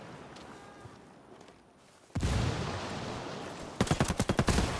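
A frag grenade detonates in a first-person shooter game: a sudden loud broadband blast partway through, followed by a sustained roar and a rapid series of sharp bursts like gunfire.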